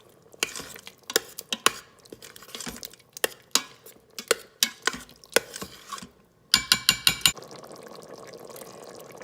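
A spoon scrapes and clinks against a pot while chili with tomato sauce is stirred, giving a run of sharp irregular taps with wet swishing underneath, close and fairly quiet, then a quick cluster of clinks.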